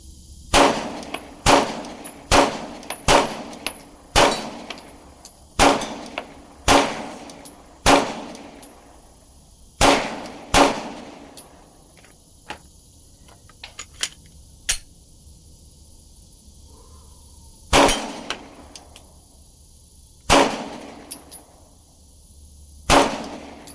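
A Glock 19X pistol fires round after round in quick strings of sharp, loud cracks, each with a short ringing tail, then a pause with faint clicks and handling noises before a few more shots.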